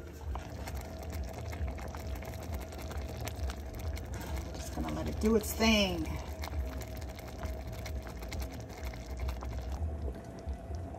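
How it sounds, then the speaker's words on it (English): Tamarind sauce with small chopped pieces simmers in a pot, giving a low, steady bubbling that runs throughout, with a person talking over it. "put it in the sauce and let it simmer"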